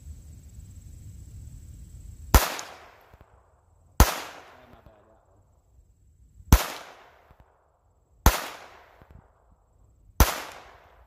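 .22 caliber gun firing five sharp, loud single shots at irregular intervals of about two seconds, each cracking out and decaying into a short echo, with only faint background hum between them.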